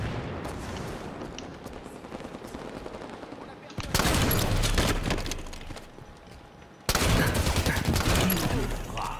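Shotgun blasts and other gunfire from the video game Halo 5, with two loud bursts after quieter shooting, under French-speaking players talking.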